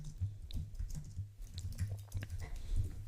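Keystrokes on a computer keyboard while text is typed into a music-app interface, a quick run of soft clicks at close range over a low steady hum.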